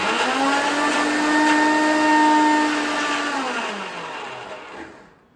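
A cheap B-grade kitchen mixer grinder whirs up to a loud, steady high-pitched spin, holds for a couple of seconds, then winds down and falls silent.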